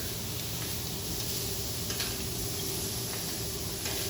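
Shrimp searing on a Wolf griddle, a steady close sizzle and hiss with faint crackles throughout.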